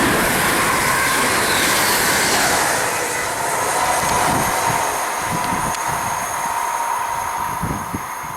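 A train runs through Cheddington station with a loud, sustained rumble and the rhythmic clatter of wheels over rail joints, close by and steady throughout, with no talk.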